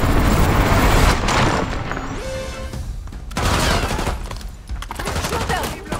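Rapid gunfire bursts in the video game Call of Duty Black Ops 6, loud clattering volleys in two clusters separated by a brief lull, with faint voices in the background.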